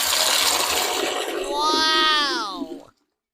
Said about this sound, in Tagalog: Buksan ko yung gripo para marinig nyo talaga na nasa CR ako